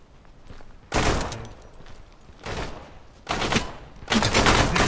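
Gunfire in the survival shooter Deadside, with several loud bursts of rapid automatic shots separated by short pauses, harsh and close, with faint background noise between volleys.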